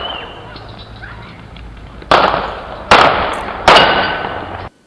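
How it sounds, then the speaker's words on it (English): Three sharp gunshots picked up by a gunshot detection system, evenly spaced loud cracks over outdoor background hiss, each with a short echoing tail. "Sometimes you can pick up things like caliber of gun depending upon the gunfire."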